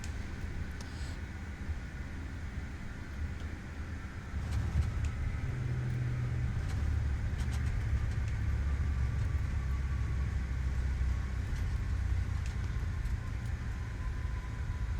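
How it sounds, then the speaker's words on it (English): Aerosoft CRJ regional jet in Microsoft Flight Simulator 2024 rolling down the runway under manual wheel braking after touchdown, a steady low rumble and road-like roar that deepens and thickens partway through, holding constant to the end. "just using manual braking now to slow down"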